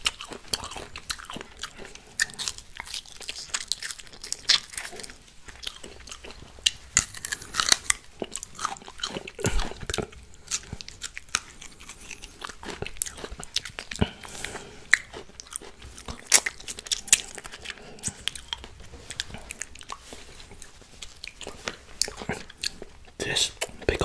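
Thai mixed pickled fruits are bitten and chewed close up, giving loud, wet, crunchy bites that repeat in an uneven rhythm. The crunching runs throughout with only brief pauses.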